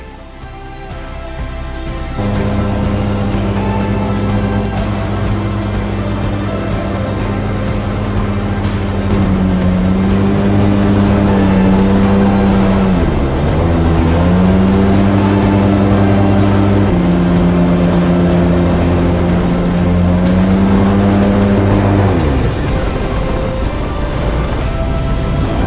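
A loud fan-driven airboat roars through the Everglades with a close, droning engine and propeller note that swells and dips as the throttle changes, continuous for over twenty seconds with no talking.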